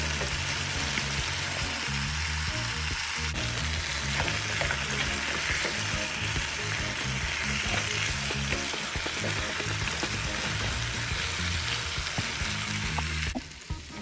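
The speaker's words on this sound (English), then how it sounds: "So after the meat have been frying in its own juice for a bit" Oxtail meat frying in its own juices in a pot, browned with sugar for Jamaican oxtail and beans, giving a steady, close, continuous sizzle and crackle throughout with no talking.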